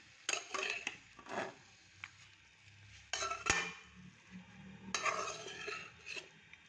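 Chicken pieces being turned in a karahi pan, quiet scraping and stirring bursts with faint sizzling and a few clinks of utensil against metal, spaced out and fairly soft.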